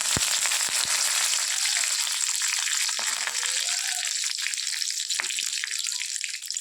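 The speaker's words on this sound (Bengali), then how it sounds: "তেলটা গরম হয়ে এসছে এবার এতে দিয়ে দেবো সর্ষে ফোড়ন" Mustard seeds and curry leaves hitting hot oil: a few sharp pops at first, then a loud, steady, crackling sizzle close by.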